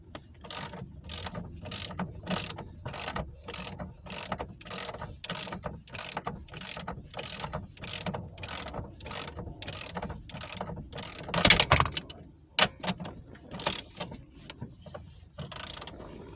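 Ratchet wrench torquing down the steering wheel bolt on a 2009 Chevy Cobalt during a steering wheel replacement, with a long run of rapid, evenly spaced clicks, close and loud, pausing briefly near the end.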